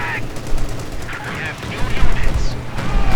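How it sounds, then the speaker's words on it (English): A 20mm autocannon in a World War II strategy game fires rapid bursts of shots over layered battle noise, with a commentator talking over the gunfire. "scout car here getting hammered by the auto cannon, 20mm"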